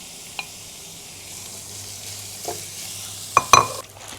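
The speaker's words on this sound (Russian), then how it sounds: "И обжариваем до золотистого цвета, до мягкости лука." Soft sizzling of onion frying in a pan until golden and soft, with a couple of sharp clinks and scrapes of a utensil stirring near the end.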